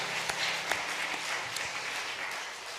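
Congregation applauding in church at a Friday late-night prayer service, an even, sustained patter of many hands clapping at moderate distance, with no one speaking.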